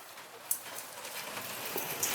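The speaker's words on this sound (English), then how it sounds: "it's raining out" Rain falling outside, a steady soft hiss of drops with a few sharper taps, fairly faint and continuous.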